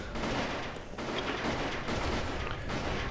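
Dense, rapid gunfire rattles almost without pause in the video game Apocalyptica, in a Jerusalem sewer level, loud and continuous, with no speech.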